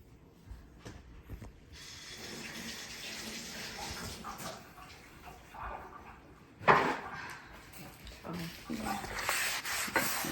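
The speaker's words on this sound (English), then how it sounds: "Also going to give my garlic cloves a quick rinse." Water from a kitchen tap runs steadily over garlic cloves being rinsed in a bowl, a continuous broadband splash that swells louder partway through, with faint handling clinks.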